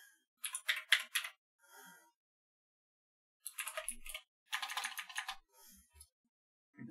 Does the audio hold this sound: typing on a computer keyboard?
yes